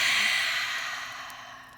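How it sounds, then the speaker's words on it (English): A deep, breathy exhale through the mouth during a yoga breathing exercise, a steady airy rush that starts strong and slowly fades over about two seconds, heard alone and close up. "Take a deep inhale through the nose and exhale through the mouth."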